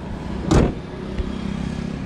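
A secondhand Toyota Innova Crysta's engine cranks briefly and catches, then settles into a steady low idle, heard close and alone.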